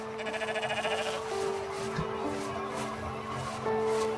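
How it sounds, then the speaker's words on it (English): A sheep in the video game Rising World bleats in a wavering, tremulous call near the start, followed by a softer, lower bleat over a steady background hum. "There we go guys, I found a sheep."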